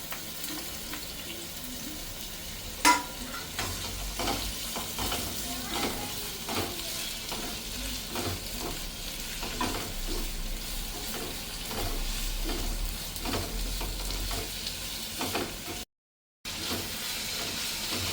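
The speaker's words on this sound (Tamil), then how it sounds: "நல்லா வணக்கிக்கணும் வெங்காயம்." Two large onions sautéing in oil for an onion and tomato chutney, a continuous sizzle broken by frequent spoon scrapes and stirring knocks, close by, with one sharper clank early and a brief dropout near the end.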